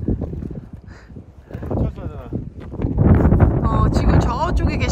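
Cold wind blows along the seaside at a beach on Jeju, a steady low roar that gusts louder in the second half, with people talking close by throughout.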